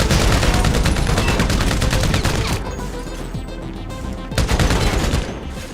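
A gun in GTA Online fires in fast continuous automatic bursts, loud and close, pausing briefly midway before the rattle resumes.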